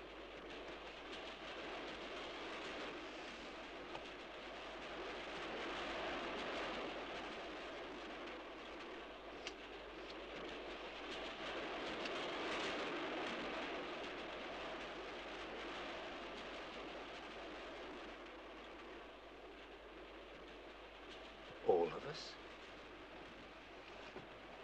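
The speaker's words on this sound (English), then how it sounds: "It's this train." A railway carriage rattles steadily along the tracks with a continuous rumbling clatter, followed near the end by a brief sharp screech.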